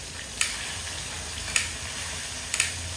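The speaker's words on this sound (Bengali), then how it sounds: "আলু ভাজা রান্না করছে, আলু ভাজা খিচুড়ির সাথে খাবো আমরা।" Sliced potatoes fry in a wok with a continuous close sizzle and hiss, punctuated by three sharp scraping clicks of a utensil stirring them.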